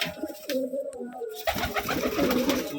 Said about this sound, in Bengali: এই যে কবুতরটা দেখুন